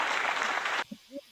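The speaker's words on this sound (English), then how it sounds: "I'm gonna give you guys claps for those comments." Short burst of applause, a dense crowd-clapping sound effect that cuts off abruptly, followed by a brief bit of speech.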